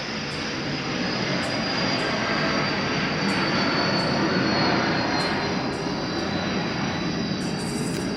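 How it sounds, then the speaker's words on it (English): Jet aircraft flying overhead near an airport, a loud, continuous broadband roar that holds steady for several seconds without fading, with faint periodic high ticks on top. "This jet's going to be too loud."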